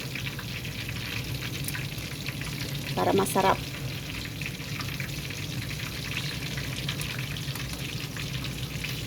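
Steady crackling sizzle of chicken deep frying in hot oil, continuous throughout, with a brief louder burst of bubbling near the middle.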